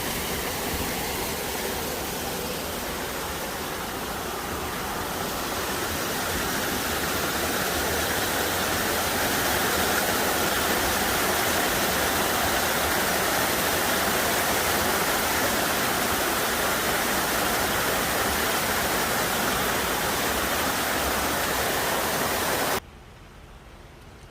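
Flowing water near a lake, a steady dense rushing wash heard continuously for about twenty-three seconds before cutting off abruptly near the end.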